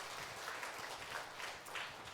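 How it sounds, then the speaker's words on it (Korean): Church congregation applauding the choir at a Sunday worship service, a soft, steady patter of many hands spread through the room, fairly faint and distant, with no talking over it. "우리 박수하겠습니다"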